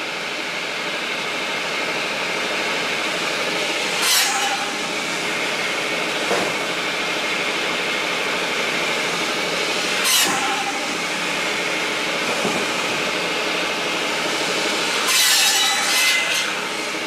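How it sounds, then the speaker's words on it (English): A home-built firewood processor saws through small logs with a steady, loud mechanical drone and faint periodic whines as each cut is made, running continuously with no talking. "It definitely makes bucking up, especially these smaller logs, so nice and easy."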